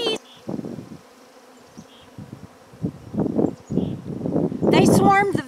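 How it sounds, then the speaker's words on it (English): Bees buzzing close by, droning in and out as they pass, under someone talking and exclaiming. "Oh my gosh, bees!"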